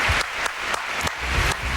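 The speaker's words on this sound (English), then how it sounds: "Are they applauding me?" A television studio audience claps steadily for a few seconds, a dense close patter of many hands with no voices over it.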